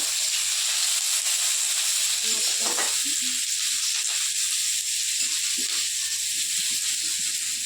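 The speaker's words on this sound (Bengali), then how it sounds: "তার পেঁয়াজ ভাজা হচ্ছে" Onions fry in a pan for ghugni with a steady, close hiss of sizzling oil. Soft stirring scrapes and knocks come through it, and no one speaks.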